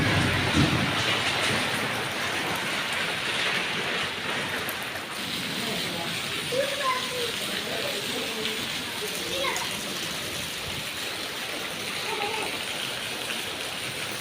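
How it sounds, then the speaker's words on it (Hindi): Heavy monsoon rain pours down steadily as a dense, constant hiss that fills the whole stretch, loud and unbroken, with occasional faint voices under it. "बारिश बहुत तेज़ हो रही है, आप लोग देख सकते हैं"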